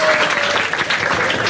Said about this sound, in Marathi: एकदा टाळ्या वाजवा माझ्यासाठी